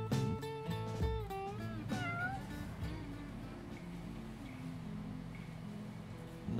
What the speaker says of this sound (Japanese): 人に慣れてて僕にも懐いてくれるような 野良猫だけを揃えた